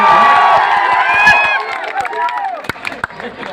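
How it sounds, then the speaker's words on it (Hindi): Crowd at a Bhojpuri stage show in Pratapgarh clapping and cheering, a dense wash of sharp claps and shouts mixed with amplified voices and music. "तनी को ताली बजा के आशीर्वाद"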